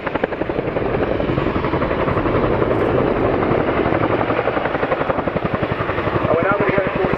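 An RAF display helicopter performs a quick stop at an airshow, its rotor chop loud and continuous, slowing into a steady rhythmic thudding near the end, with a commentator talking over it.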